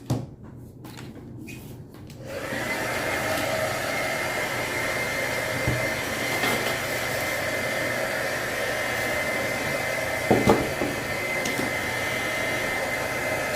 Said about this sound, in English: want the drying tool?